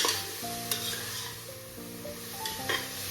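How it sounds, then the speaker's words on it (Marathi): Grated carrot being stirred and sautéed in ghee inside a pressure cooker for carrot halwa, a soft steady sizzle with repeated scraping of a spoon against the metal pot, fairly quiet and without voices. "आता याला परतून घ्यायचं आहे तुपामध्ये"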